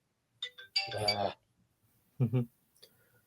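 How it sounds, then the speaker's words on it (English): A phone rings with an incoming call during a game of Rom: Spaceknight, a few short electronic tone bursts spread over a few seconds alongside a brief voice. "Phone call."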